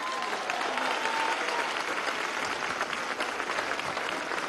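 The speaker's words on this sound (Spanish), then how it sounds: "Que vaya el aplauso de las mujeres venezolanas" Dense, steady applause from a large crowd at an outdoor march against violence toward women in Venezuela, filling the whole stretch at even loudness with faint voices buried underneath.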